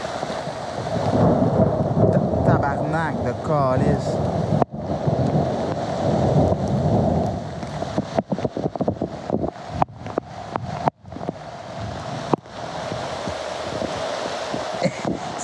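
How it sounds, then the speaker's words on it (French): Loud rumbling thunder rolls over steady heavy rain and wind buffeting, with a few sharp cracks and a brief voice exclaiming near the end. "Il y a du tonnerre."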